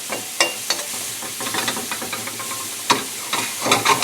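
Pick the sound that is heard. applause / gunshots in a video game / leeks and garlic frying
leeks and garlic frying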